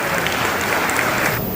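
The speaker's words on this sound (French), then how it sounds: "je vous prie d'accueillir sur un tonnerre d'applaudissements" A crowd gives a burst of steady applause to welcome the Moroccan ambassador at a cultural celebration in Saint-Denis. The clapping is dense and even throughout, then cuts off abruptly.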